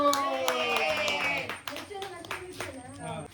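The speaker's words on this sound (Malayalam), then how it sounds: "എല്ലാരും കൈയടിച്ചേ" Family members clap hands together during an Onam celebration at home, a lively patter of claps overlapping with children's voices and chatter throughout.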